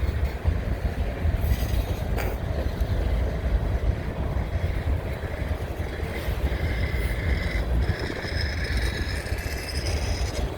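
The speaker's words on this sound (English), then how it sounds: "sounds like a bad bearing in that car on one of those wheels." A railroad car rolls past with a wheel squealing from a bad bearing, a steady, loud rumble of wheels on rail carrying thin high squeals that come and go throughout, close by, with no talk.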